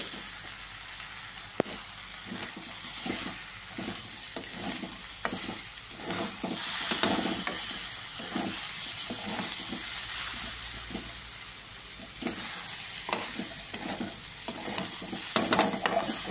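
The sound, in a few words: khichuri rice sautéing and being stirred in a pan with ghee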